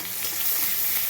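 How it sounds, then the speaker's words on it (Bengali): Chopped onions frying in hot oil in a pan, a dense, even sizzle that holds steady and close for about a second with no voices. "পেঁয়াজটা সুন্দর করে লাল লাল করে ভাজতে হবে"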